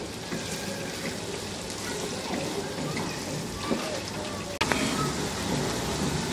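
Sliced onions frying over medium-low heat and being stirred in a pan, giving a dense continuous sizzle with scattered scrapes and a sharp clatter near the end, close up.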